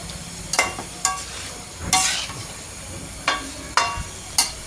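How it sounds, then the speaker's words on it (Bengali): Potatoes and beans sautéing in a pan: sharp, loud scraping strokes of a spatula recur at irregular intervals over a low sizzle, close up and with no speech. "আলুগুলো দিয়ে কষিয়ে নেব বারবার নিয়ে নিয়ে দিতে হবে"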